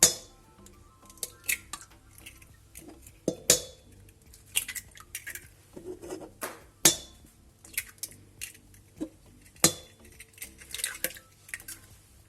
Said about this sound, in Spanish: Echamos en un bol 4 huevos si son medianos o 3 si los tenéis grandes